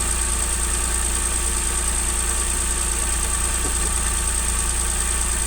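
A car engine idles steadily after a P0302 misfire fault code has been read and cleared, giving a constant low hum with a high whine running throughout and no talking.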